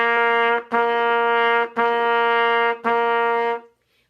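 A trumpet plays four separate tongued notes of equal length in an even rhythm, each with a crisp start and brief gaps between them, loud and close with no voice.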